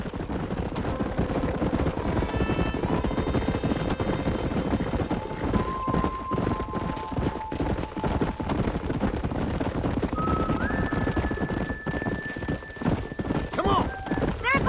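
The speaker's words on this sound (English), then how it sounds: "There's the horses!" Horses gallop with steady clip-clop hoofbeats and an occasional whinny in a Western open-range setting from Red Dead Redemption, running continuously under background music and game sounds.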